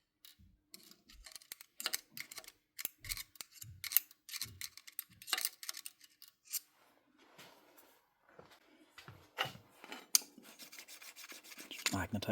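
Steel screwdriver shaft being stroked to magnetize it during a Milwaukee M18 nut gun repair, giving a series of short scraping rubs and metallic ticks close up, uneven in rhythm, with no talking.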